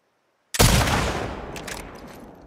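A single loud scoped sniper rifle shot from The Last of Us Part II cracks after half a second of silence, then rolls into a long echoing tail with faint distant rattles as it fades.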